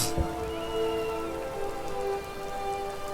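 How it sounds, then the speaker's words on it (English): Steady video game rainfall patters on a surface throughout, a continuous wash of drops with a faint tonal hum underneath. "Rain, rain, rain."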